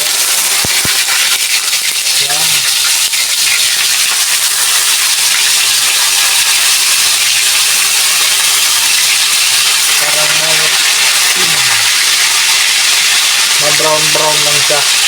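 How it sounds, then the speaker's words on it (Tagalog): Chicken pieces browning in a hot frying pan, a loud, continuous crackling sizzle with a few brief voice fragments over it. "pa-brown ko muna yung prito-prito ko"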